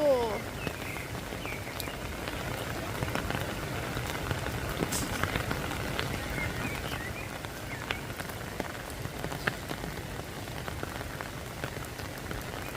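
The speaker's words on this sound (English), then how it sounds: "It's heavily rain. Heavily rain." Heavy rain pours down steadily at Artis Zoo in Amsterdam, a dense hiss of drops striking surfaces throughout, with faint voices briefly audible beneath it.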